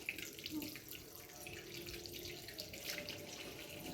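A household tap runs steadily for the whole stretch, its water splashing into a sink with a continuous broadband hiss and no break in flow.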